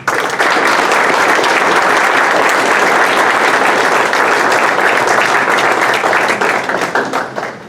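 Applause at a Belleville city council meeting: loud, sustained clapping from the room, dense and even for several seconds before thinning out into scattered claps at the end.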